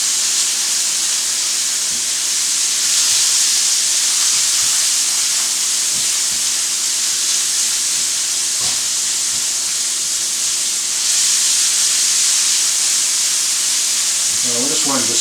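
Onions or other ingredients for a simple pasta and cheese dish frying in a pan: a steady, loud sizzle and hiss runs throughout, with occasional soft scrapes of a small spatula moving the food around.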